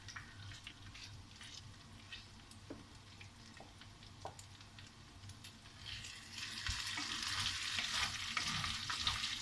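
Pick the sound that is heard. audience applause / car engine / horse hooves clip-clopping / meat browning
meat browning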